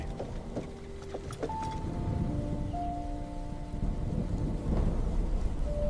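Rain falls steadily under rolling thunder, building slightly louder toward the end, with a few faint tonal hums through the storm and no voices, part of a dramatized horror tale about a long journey on a deserted road.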